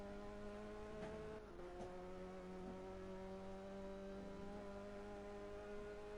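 A Renault Clio Cup race car lapping a circuit hard over the curbs, shuddering: a faint, steady engine note holding a sustained pitch, with a couple of short jolts early on.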